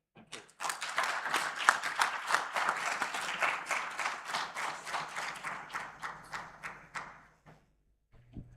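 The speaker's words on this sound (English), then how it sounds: "I think that that deserves a second round of applause" An audience at an African summit conference hall applauds for about seven seconds of dense, moderately loud clapping that gradually thins and dies away, followed by a quiet low hum.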